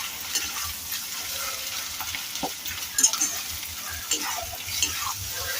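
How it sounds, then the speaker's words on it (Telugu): Egg fry being stirred in a hot pan, a steady close sizzle with scraping utensil strokes and a few sharper clinks, no talk. "నెక్స్ట్ ఒకసారి కలిపేసుకుందాము."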